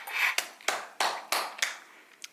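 A few sharp hand claps, about five, fall in an uneven rhythm close by at a dining table over a meal of braised monkfish, with no speech among them.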